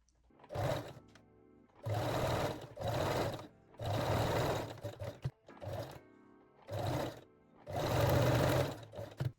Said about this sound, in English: sew the edge with a zigzag stitch